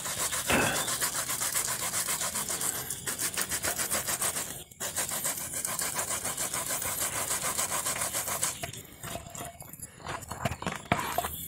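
Peeled cassava is grated finely by hand, giving a steady, rhythmic rasping scrape of rapid repeated strokes, close and continuous, with a brief pause midway.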